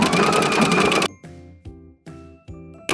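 A sewing machine stitches a blind hem on hem tape in one brief rapid run, then stops, followed by several ringing metallic clicks and clunks as the mechanism is handled close up.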